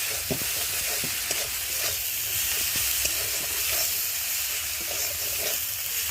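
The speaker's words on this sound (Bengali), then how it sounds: "দিয়ে মশলাটা ভালো করে কষিয়ে নেব।" Ground masala spices, coriander powder and chana masala, fry in a pan with a dense, continuous sizzle and hiss, while a spoon scrapes and stirs in irregular strokes close by.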